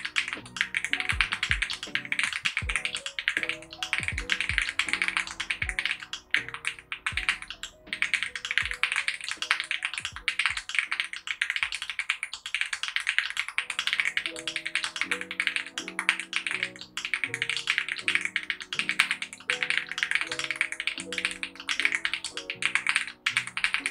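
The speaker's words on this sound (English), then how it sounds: "Let's put the keyboard to the test by trying it out on a typing speed test using Monkey Type." Steady, fast typing on a LOGA Yaksa Pro mechanical keyboard during a typing speed test, a dense run of close, crisp key clacks with occasional louder thocks, no voice.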